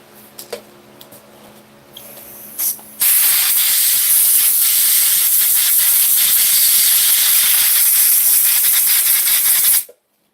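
Compressed air blasting through a Rhino 2.0 front axle during an upgrade, a loud, harsh continuous hiss starting sharply after a few quiet seconds of faint clatter and lasting about seven seconds before cutting off.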